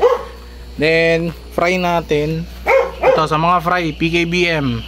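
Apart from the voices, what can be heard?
dog barking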